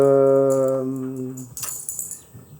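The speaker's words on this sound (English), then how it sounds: "My dog, she's scratching her little neck." A dog whines briefly, then scratches at its neck, setting off quick, irregular jingling bursts close by.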